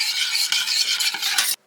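A spoon stirs ramen seasoned with salt and pepper in a pot, producing a continuous close scraping swish with a soft sizzle underneath, ending abruptly; no voices.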